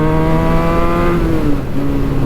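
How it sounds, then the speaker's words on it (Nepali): A Benelli 302s motorcycle with a Yoshimura exhaust revving hard near its RPM limit, a steady high engine tone that dips briefly and then holds again, loud and close. "त्यो RPM लिमिट हिट गरेको आवाज यस्तो मजा आउँछ"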